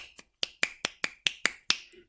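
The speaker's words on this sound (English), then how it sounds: "Body percussion is things like snapping," Seven crisp finger snaps of body percussion ring out close and alone in a steady, even rhythm.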